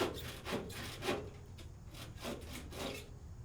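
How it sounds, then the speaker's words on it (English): Timber braces are sawn flush with joists and rafters, heard as a near, repeated back-and-forth rasping of saw strokes in a steady rhythm, with no talk. "braces are trimmed back flush with the telebeams and rafters"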